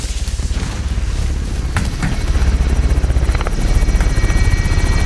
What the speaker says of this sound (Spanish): Helicóptero en posición para el depósito.